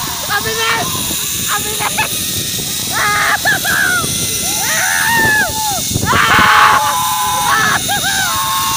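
A person screams and yells while riding a zipline at Camp Benjamin, with a loud, wavering voice rising over steady rushing wind and the whir of the cable, and other people calling out nearby.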